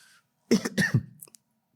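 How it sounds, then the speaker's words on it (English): A person coughs several times in a quick, raspy burst, close up, after a brief moment of quiet. "I developed cough in the night"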